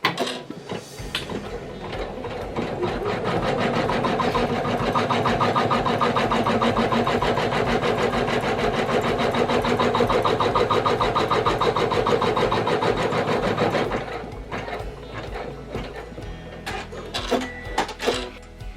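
Embroidery machine stitching fabric for a shoelace-tying sensory toy, a loud steady mechanical whirring with rapid clattering that runs for about thirteen seconds, then winds down to scattered clicks and handling noise.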